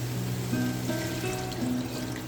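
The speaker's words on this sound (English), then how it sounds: "Back to the pot, pour in about 3 liters of water." About three liters of water poured into a soup pot for chicken oats soup, a continuous close, full pour with rising pitch as the pot fills.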